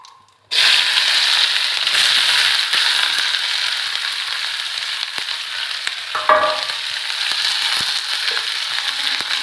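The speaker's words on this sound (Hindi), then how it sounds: "तो प्याज को हम चलाएंगे और थोड़ी देर इसे भूनने देंगे।" Onions frying in a pan after ajwain seeds, a loud steady sizzle with occasional scraping stirs and a brief clatter midway, close up with no talking.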